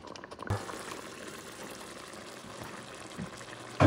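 A pot of ropa vieja with flank steak simmers over lowered heat, giving a steady low bubbling wash close by, with a couple of faint clinks at the start and end.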